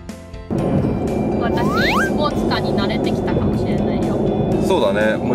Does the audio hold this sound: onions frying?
no